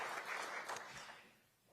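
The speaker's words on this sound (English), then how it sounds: "Let's give her a round of applause as well for leading this great institute." Brief, fairly quiet applause from an audience at a political domestic policy event, a soft wash of clapping that tapers off within a couple of seconds.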